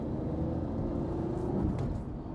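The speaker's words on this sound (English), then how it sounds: "road noise inside of the Lotus Evora, it's a very quiet car" Cabin of a 2010 Lotus Evora on a small road: a low, even engine drone and road rumble hold steady throughout, with a slight swell in the middle, no talking.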